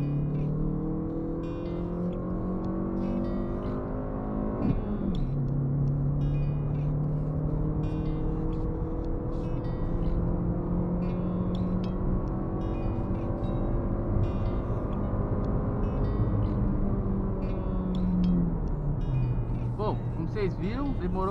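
A Fiat Mobi pulls away in second gear on a slight incline, engine note climbing steadily through the revs with gear changes, heard from inside the cabin as a droning hum with occasional faint talk.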